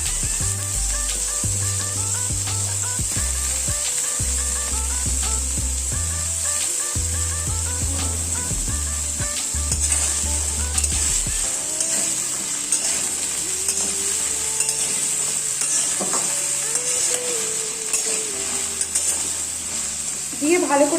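Vegetables for sabu khichuri sizzle steadily in a hot pan as they are stirred, with an even frying hiss throughout, occasional scraping of the spoon, and background music playing underneath.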